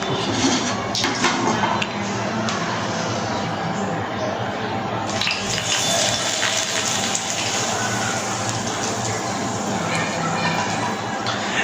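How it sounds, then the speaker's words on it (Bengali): Hot oil is poured over spices in a bowl, giving a loud, continuous rushing sizzle that holds steady and swells slightly partway through, heard close up. "তেল গরম হয়ে গেছে, এখন তেলটা এই মশলার মধ্যে ঢেলে দেবো।"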